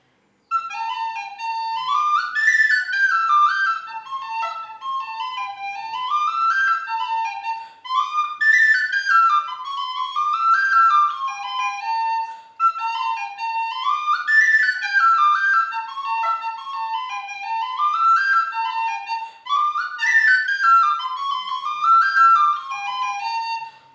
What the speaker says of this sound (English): on the tin whistle